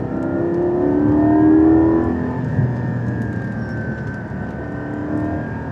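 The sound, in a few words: Porsche GT4 sports car accelerating on a road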